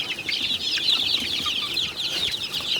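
A flock of chickens kept in a small space at night clucking and murmuring continuously, with a steady busy chatter of many birds close by.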